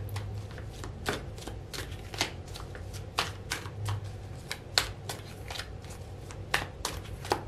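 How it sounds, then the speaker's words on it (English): Tarot cards shuffled by hand, a long run of quick riffling snaps and soft slaps, close and fairly even, with a low steady hum underneath and no speech. "Let's get some cards."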